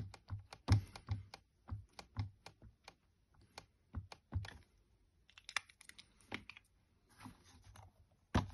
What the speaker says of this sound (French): je vais donc le tamponner en sapin ombragé, la couleur de mon papier.